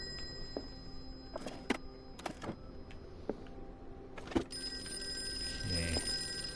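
A telephone rings in bursts inside an office in the video game Call of Cthulhu, its bell repeating several times over a low ambient hum with scattered thuds and no talking.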